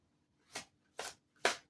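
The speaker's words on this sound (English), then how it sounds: "Let me just give these cards a bit of a shuffle." Three quick riffling bursts of tarot cards being shuffled, evenly spaced and close by in an otherwise quiet room.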